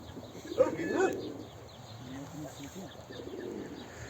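A trained pigeon coos softly nearby, a couple of low throaty coos early on followed by quieter murmuring calls, with faint outdoor background and no clear speech.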